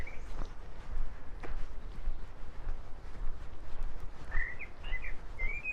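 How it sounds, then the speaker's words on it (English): Birds calling in Regent's Park, London: a few short chirps and whistled notes, moderately close, scattered over steady outdoor ambience with occasional footsteps on a path. "Listen to the birds song."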